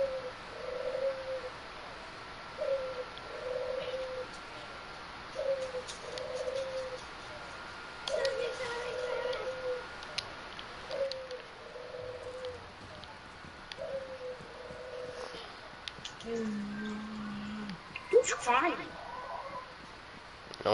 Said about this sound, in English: You just hear doves.